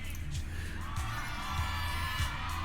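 A live crowd cheers and whoops for the Tour de Inferno, a steady roar of many voices with a few higher shouts rising above, moderately loud and continuous.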